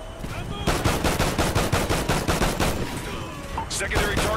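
Single-fire gunshots in Call of Duty: Ghosts, a loud, evenly paced string of about a dozen shots in quick succession that trails off into quieter game sounds near the end.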